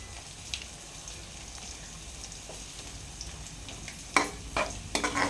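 Onions, green chillies and curry leaves frying in oil for a mushroom gravy, a low steady sizzle with a spoon scraping and stirring in a pan, the stirring strokes growing louder and busier near the end.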